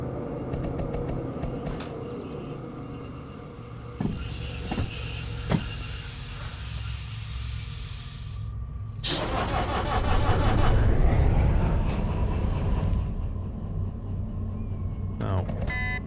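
A freight train in the Derail Valley railway game slows to a stop, its rumble and squealing wheels swelling toward the end over a steady mechanical drone, while someone talks throughout.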